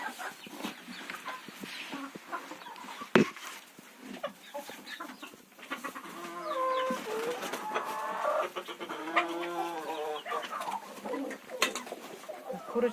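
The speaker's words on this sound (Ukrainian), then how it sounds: "Курочки вже повиходили." Several hens cluck and murmur softly together in winter, with a sharp knock partway through and faint outdoor rustling around them.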